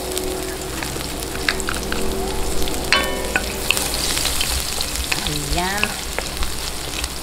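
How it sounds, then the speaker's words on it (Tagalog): Garlic sautéing in hot oil for bangus humba, a steady close crackling sizzle with frequent small pops, some utensil clinks and a brief sliding squeak, with a short spoken word from a person partway through. "umpisahan na po natin ang paggigisa. Lagay po natin ang bawang."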